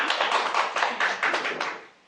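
A church congregation gives a short round of welcoming applause, many hands clapping together in a quick, rhythmic patter close by. The clapping fades out near the end, with no voices over it.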